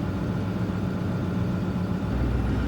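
A vehicle engine idles steadily, a continuous low rumble at constant volume with no revving, heard close up with no voices.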